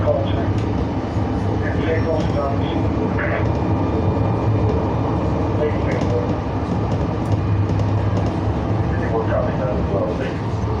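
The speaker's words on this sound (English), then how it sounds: "my train is here" A train rumbles steadily throughout, a low continuous drone with faint squeals and rattles, with people talking over it.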